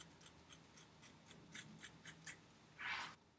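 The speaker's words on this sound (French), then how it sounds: "Je prends bien le devant ici et je coupe" Scissors snip the front edge of a lace wig in a quick series of about nine crisp, close cuts, followed by a brief louder rustle of the lace.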